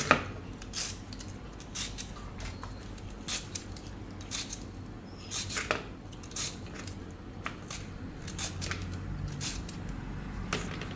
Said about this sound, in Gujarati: તો ગાજર આપણે છીણી લેવું અને છાલ કાઢી નાખીશું આપણે